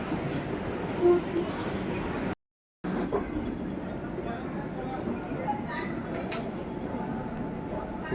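Metro train arriving at a railway station platform, a steady loud rumbling roar of the cars rolling in with faint squeals, continuous throughout with a brief dropout, under someone speaking over it.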